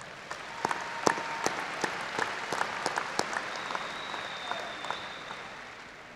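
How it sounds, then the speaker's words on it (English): An audience applauds at the Waco High School Class of 2018 graduation ceremony. The steady crowd clapping has sharp individual claps standing out and fades slightly toward the end. "I think that deserves another round of applause"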